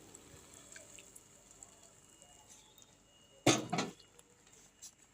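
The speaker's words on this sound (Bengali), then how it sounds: "এবার আমি গরম জলটা দিয়ে দেবো" Hot water is poured into a cooking pot of vegetarian sabu (sago) khichuri, a short splashing gush midway through an otherwise quiet kitchen.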